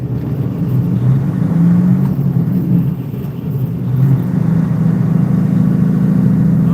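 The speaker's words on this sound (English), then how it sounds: "So you can hear my Jake. That's my Jake brake." Semi truck in Canada, loaded with a big pallet of food for delivery, rumbling steadily with a low, throbbing diesel engine brake, loud and close, pulsing and swelling near the middle and again toward the end, with no talk.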